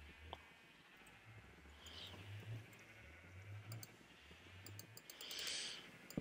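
Sheep bleating in the Minecraft video game, repeated short bleats over a low hum of background game sound, with faint clicks and a brighter bleat near the end.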